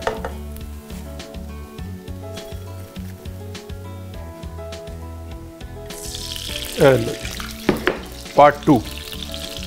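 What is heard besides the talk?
bread frying in ghee in a pan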